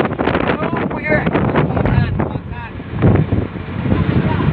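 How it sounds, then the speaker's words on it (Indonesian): Strong west wind at sea on a fishing boat buffets the microphone with a continuous rough roar, while someone talks over it. "kita masih belum dapat ikan anginnya juga kencang guys barat"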